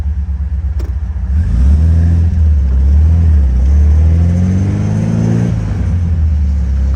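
A 1967 Porsche 356 Speedster replica engine, loud and close, revving through rising and falling pitch sweeps as it shifts gears. The deep rumble carries steadily throughout, and no one speaks.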